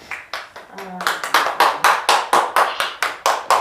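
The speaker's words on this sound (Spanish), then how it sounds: "Vamos a dar un aplauso a Dios." A church congregation claps together in a steady rhythm, with about a dozen loud, evenly spaced claps that ring out close by.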